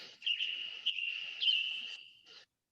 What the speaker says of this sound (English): So there's a bird, there's a Western tanager